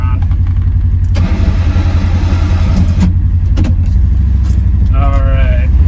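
A 2025 Polaris Ranger XP1000 NorthStar UTV drives in low gear through snowy woods, its engine droning loud and close with rattling and clunks over it.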